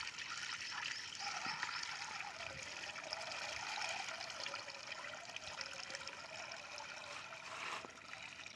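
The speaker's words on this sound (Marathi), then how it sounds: "आता आपण असं चाळणीत पाणी टाकून गहू येतील वरती." Water poured through a sieve to wash wheat grains makes a steady, continuous splashing trickle close by, unbroken for the whole stretch.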